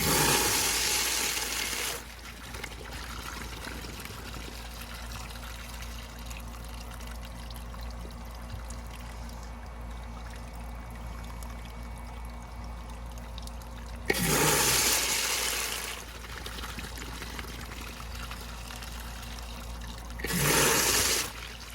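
A Universal Rundle Colburn urinal flushes in a restroom: a loud rushing gush at the start, a long quieter trickle and hiss, then two more short, strong surges of water.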